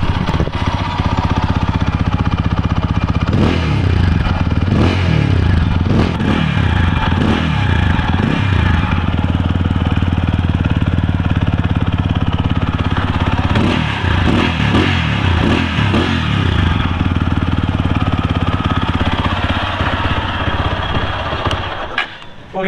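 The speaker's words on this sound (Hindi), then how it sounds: "थोड़ा सा थ्रॉटल देके दिखाता हूँ आपको इसका एग्जॉस्ट नोट।" A TVS Apache RTR 200 4V motorcycle's exhaust note sounds close up as the throttle is blipped repeatedly, sharp revs rising over a steady idle in two clusters, loud and alone without speech.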